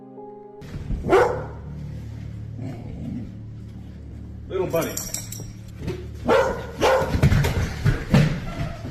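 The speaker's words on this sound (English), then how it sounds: "This startles the dog, causing it to bark loudly" A dog barks loudly a few times outdoors at night near a campsite, short sharp bursts mixed in with a man's speech and some clinking.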